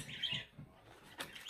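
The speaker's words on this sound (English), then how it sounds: "I made the bird mad, so he's telling me off now" A pet bird gives a few sharp, agitated chirps and squawks at close range, with a brief burst near the end and faint rustling between calls; no talking is heard.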